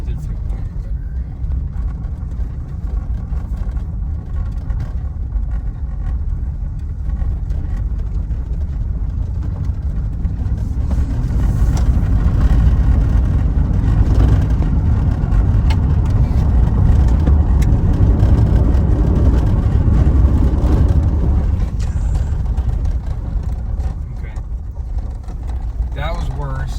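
A $500 Chevrolet Silverado pickup, its brakes faulty, drives laps with a steady low engine and road rumble that swells in the middle, while people talk over it throughout.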